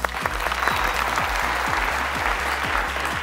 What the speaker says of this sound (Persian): اردوشان رو تشویق کنین.